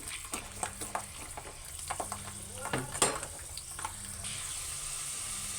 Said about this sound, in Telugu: ఉల్లిపాయలు ఎల్లిపాయలు బ్రౌన్ కలర్ వచ్చేదాకా వేపుకోవాలి ఫ్రెండ్స్